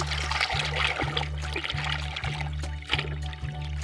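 Water runs and trickles while muddy toy vehicles, including a bulldozer and a helicopter, are washed. A steady low pump-like hum pulses at a regular rhythm under the close splashing.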